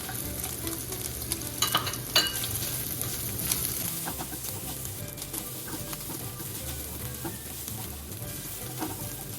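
Chopped garlic hits reused tofu-frying oil in a pan and sizzles steadily, a continuous close crackling hiss with a few sharper stirring clatters near the start.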